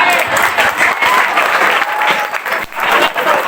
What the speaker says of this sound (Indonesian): Tepuk tangan untuk antum saya.